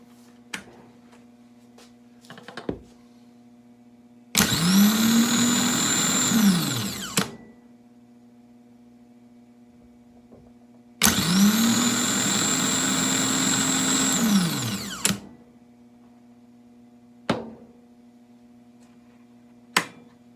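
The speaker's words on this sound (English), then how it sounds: "The solenoid closed the switch to the starter, it energized the plunger, pulled it in, which then levered the pinion out." Yamaha outboard starter motor spun on a bench: sharp solenoid clicks, then two separate bursts of high, whining spin lasting about three seconds each, with more isolated clicks between and after.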